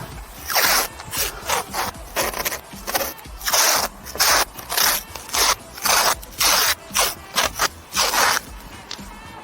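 Repeated short rasping, tearing strips of masking tape pulled and pressed down around a car headlight, close up, in a steady stop-start rhythm with no talking.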